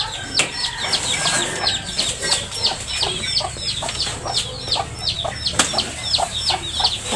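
Chickens cluck in quick repeated calls, several birds close by, a busy farmyard chatter that keeps going with occasional sharper squawks and no talking.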